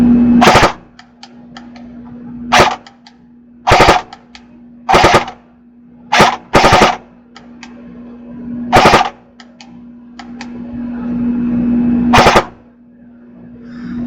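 A CB 88 Chrono Blaster BB gun fires in single shots, with loud, sharp bursts, some in quick pairs, over a constant electrical hum, close up and without talking.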